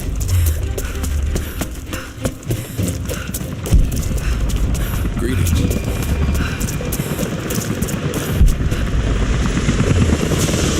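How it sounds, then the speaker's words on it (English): Loud, close helicopter rotor thumping continuously, a rapid chopping drone with mechanical whine and occasional impacts in the video game Rise of the Tomb Raider. "helicopters are headed your way."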